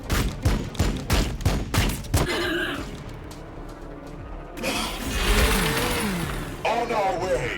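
Rapid gunfire from units in the strategy video game Warhammer 40,000 Battlesector, a burst of sharp repeated shots followed by a rolling mechanical rumble and a second volley, with a voice speaking over the battle noise.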